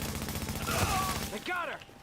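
Rapid gunfire in The Division video game, a loud close volley of shots crackling for over a second, with a voice speaking briefly toward the end.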